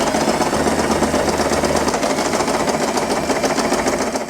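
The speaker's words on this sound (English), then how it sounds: "and we are going to sew this part" A sewing machine stitches fabric for a hair bow, a steady dense mechanical whir with rapid needle chatter running continuously and close throughout, no voices.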